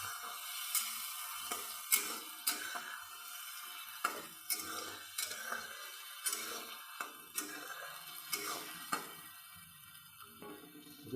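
Ginger, garlic and onion paste frying in a pan for a mutton dish, a faint sizzle broken by sharp, irregular clacks of a spoon against the pan, close but quiet.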